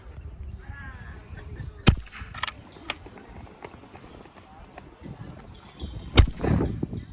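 A Savage Arms Rascal youth .22LR bolt-action rifle fires two sharp, short cracks several seconds apart outdoors, with voices talking and movement noise in between.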